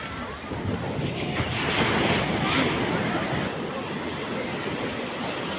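Sea waves break and wash continuously onto the beach at Puri, near a fishing-boat landing and fish market, a loud steady surf roar with wind buffeting the microphone throughout.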